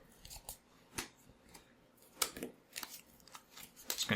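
A Magic: The Gathering deck is shuffled by hand in quick, soft riffling bursts and card snaps, irregular and close, with no talk over it.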